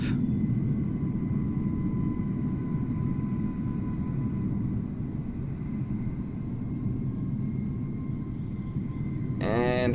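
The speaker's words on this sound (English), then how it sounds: "here comes an EasyJet A320neo disguised as a TAP Air flight" Steady low engine rumble of an EasyJet Airbus A320neo airliner passing over Amsterdam Schiphol in Microsoft Flight Simulator on a cloudy day, a constant drone holding throughout with a brief rising tone near the end.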